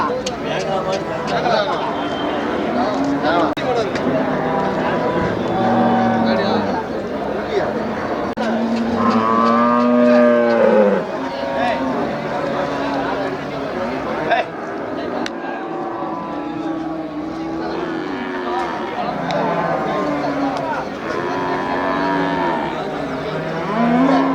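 Cattle low repeatedly at a busy livestock market in Melapalayam, drawn-out moos rising and falling among steady background chatter of buyers and traders talking throughout.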